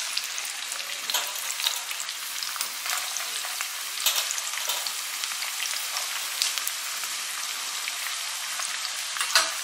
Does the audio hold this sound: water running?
no